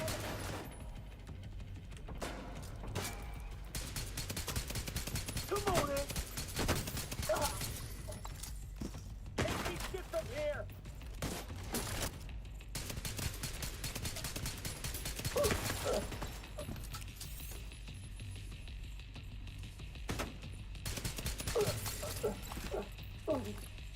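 Bursts of automatic turret fire crackle through a busy video game soundscape, short rattling volleys repeating across the scene at steady loudness among other game effects.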